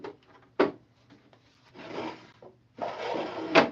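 A handmade wooden drawer in a woodworking shop slides open and shut with a rough, rubbing scrape, bracketed by a couple of close, solid wooden thumps at the start and end of each movement.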